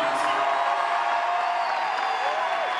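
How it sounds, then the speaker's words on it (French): Applause and cheering from an audience at the Grand Rex cinema in Paris during a documentary premiere, a constant dense wash of clapping with scattered whoops, fairly distant and even throughout. "j'aimerais un tonnerre d'applaudissements pour Mathis."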